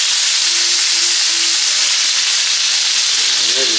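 Mushrooms sautéing in a pan on a home stove, giving a steady broadband sizzle that stays loud and even throughout, with a faint tonal hum early on and a brief murmur near the end.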